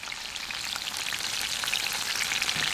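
Battered banana pieces frying in hot oil on raised heat, a dense, even sizzle with fine popping like rain, growing slightly louder, heard close with no speech.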